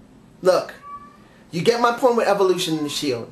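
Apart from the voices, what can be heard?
cat meowing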